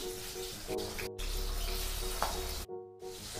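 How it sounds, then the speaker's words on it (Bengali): Hilsa fish, rubbed with salt and turmeric, frying in a pan with a steady close sizzle that runs almost unbroken, cut by two short silent gaps, with no voices over it. "এই ইলিশ মাছ ভাজতে দিয়ে দিলাম।"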